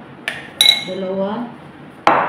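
A utensil clinks and scrapes against a bowl while shawarma sauce with oyster sauce is mixed, giving a few sharp metallic knocks with a brief ringing tone between them, close and loud.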